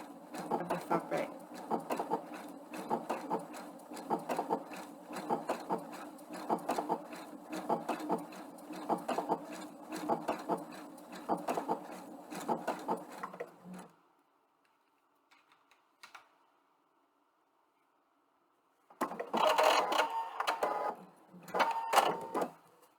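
A PFAFF sewing machine stitches an overcast seam with a fast, even mechanical rhythm for about fourteen seconds, stops into near silence, then runs again in two short bursts.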